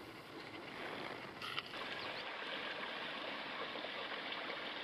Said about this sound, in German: hier aus diesem Gehölzt hört man eindeutig den Verlauf dieses Quells